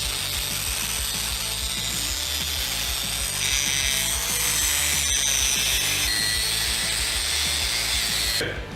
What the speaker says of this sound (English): So I'm just gonna get the grinding wheel,